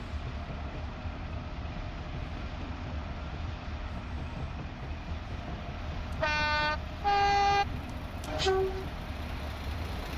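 A train horn sounds in a Scottish railway simulator game set on the western lines toward Kilmarnock, three distinct blasts rising over a steady low rumble of rolling stock, fairly loud and with no talk.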